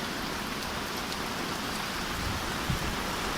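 Heavy rain pounds and splashes against a tent pitched at Hat Chao Mai National Park, a dense continuous hiss of drops with a brief thump near the end.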